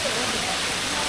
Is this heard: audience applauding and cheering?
no